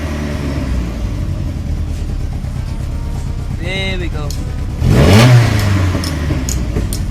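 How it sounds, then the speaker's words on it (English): A project car's engine with a newly installed choke idles with a low rumble, then gets one brief, loud rev near the end. A person speaks over the engine. "You just have to give it a nice rev in order for it to like go down to its normal revving or idling point."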